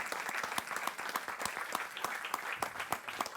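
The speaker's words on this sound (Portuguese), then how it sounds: "uma salva de palmas também para a equipa do Museu do Neorrealismo" An audience at a tribute session applauds the Museu do Neorrealismo team, a sustained round of many clapping hands heard at moderate distance, without speech.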